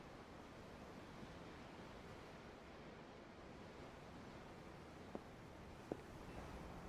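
Ocean waves wash in a steady, soft roar aboard a ship in the video game Tales of Arise, a constant surf texture broken only by two faint clicks near the end.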